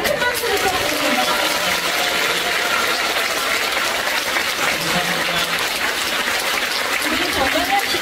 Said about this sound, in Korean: 여러분 큰 박수를 부탁드립니다.